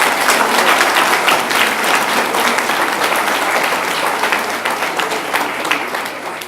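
Sustained, dense applause from a crowd honouring a couple at their golden wedding anniversary celebration in Marly, loud and steady throughout before easing slightly toward the end.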